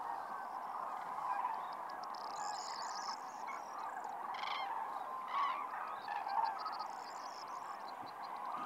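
A large flock of cranes and geese resting on the water at night in wintry Iberian wetland calls continuously, layered honks and trumpeting bugles rising and falling at middle distance over a steady chorus, no talking.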